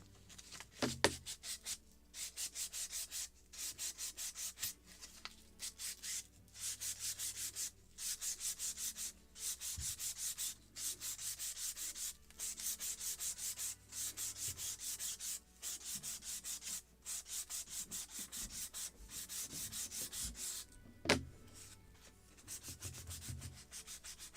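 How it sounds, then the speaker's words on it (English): Hand sanding a wooden lobster smack model hull with 320 grit paper, steady back-and-forth rubbing strokes in an even rhythm with brief pauses between passes, close and quiet, no talking. "Now I will look for 320 final sanding"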